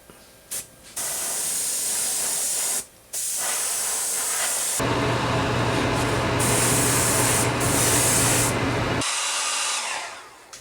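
An airbrush sprays opaque white paint onto a crankbait fishing lure in short hissing bursts, then one longer continuous spray before it stops, heard close and alone.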